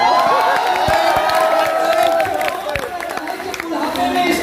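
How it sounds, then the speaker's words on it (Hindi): Audience cheering and whooping at a college poetry gathering, crowd voices rising and swelling loudly throughout, with some clapping mixed into the noisy mass of shouts. "इतने बड़ी उम्र के प्रेम करने वाले एक एक व्यक्ति की ताली उठते हुए महसूस करना चाहता हूँ"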